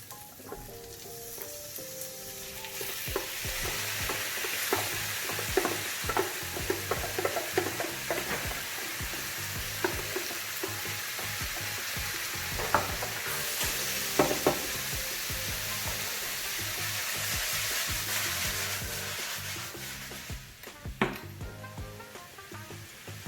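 Mushrooms added to softened onions fry on raised heat in a pan, a continuous close sizzle broken by repeated sharp spatula scrapes and knocks against the pan, with no talking.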